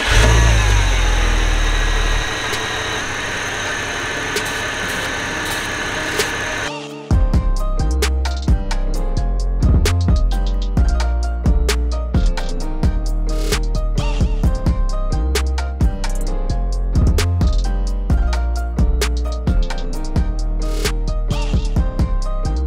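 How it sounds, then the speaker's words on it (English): A BMW E46 engine idles and runs steadily, a constant low mechanical drone with small revving fluctuations, loud and close throughout. "We're going to turn on the car and we're going to spray carb cleaner."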